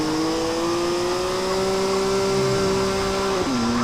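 A car engine drones at a steady, even pitch while driving without nitro in the mobile game Grand Mobile, then drops in pitch near the end. The sound is loud and continuous with no talking.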